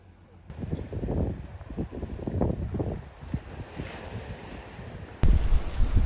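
High ocean waves break along the rocky coastal walking path at Igidae in Busan, a steady rush of surf and gusting wind buffeting the microphone, with a sudden louder blast of wind near the end.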